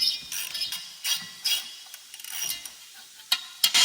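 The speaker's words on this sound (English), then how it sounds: "I was ratcheting." A ratchet wrench works the exhaust manifold bolts on a Chevrolet K1500 truck, giving short bursts of quick clicking strokes separated by brief pauses, fairly quiet and close, with no talking.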